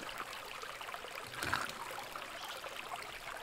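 Water flows steadily in the Sons of the Forest video game, a soft, continuous rushing trickle heard alone at a moderate level, with one slightly louder splash partway through.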